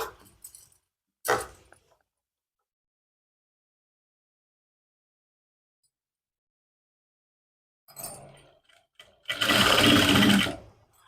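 A sewing machine stitching a trouser seam near the pocket, with a short whir early on, long silence, then a few brief bursts and a steady run of stitching close up.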